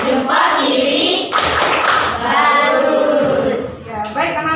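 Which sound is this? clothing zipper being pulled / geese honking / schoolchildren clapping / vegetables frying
schoolchildren clapping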